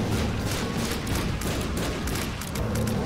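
Rapid dense gunfire rattles continuously against a boss fight in The Binding of Isaac: Afterbirth, a loud unbroken barrage of shots with no break across the stretch.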